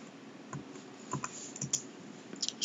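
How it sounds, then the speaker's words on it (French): Computer keys click as a name is typed into customer-lookup software, a sparse run of light, close taps in short irregular groups over faint room hiss. "je tape donc Descamps"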